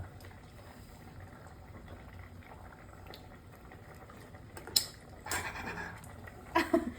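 A pot of fish curry bubbles softly at a low simmer, faint and continuous, with a few louder clinks and liquid splashes near the end.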